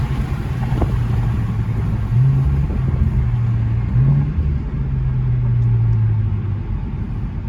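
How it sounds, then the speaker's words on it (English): An Infiniti Q50 with the VR30 twin-turbo engine and an LDP mod drones loudly and steadily from inside the car, a deep engine rumble with slow rises in pitch as it pulls. "You hear them turbos?"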